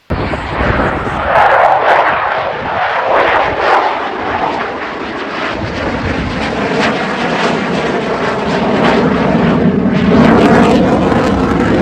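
Air Force One, the presidential aircraft, roars loudly and steadily as it flies, a broad engine rush that swells and holds for the full span, with speech mixed in beneath it.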